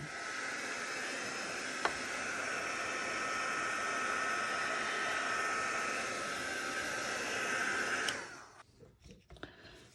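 A dryer blowing steadily close by to quickly dry a resin ring, a continuous loud whooshing hiss that cuts off after about eight seconds, leaving faint handling noises.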